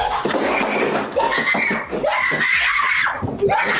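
A woman screams loud and sustained in police footage as she charges deputies with a large chef's knife, shrill ragged shrieks and wails filling the whole stretch with barely a pause.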